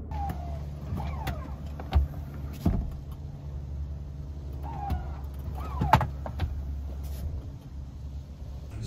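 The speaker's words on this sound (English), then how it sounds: "you press a button up here and the seats go up and down" Power third-row seats of a 2021 GMC Yukon Denali XL motoring inside the cabin, a low steady electric hum with rising whirs and a few clicks and thumps as the seats move, quiet and close.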